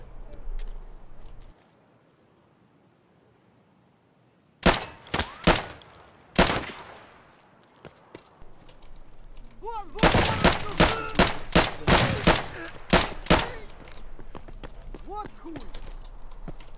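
Shotgun blasts from a scav in the shooter game Escape From Tarkov, loud and close, a couple of isolated booms followed by a rapid burst of repeated shots with ringing tails, after a quiet stretch.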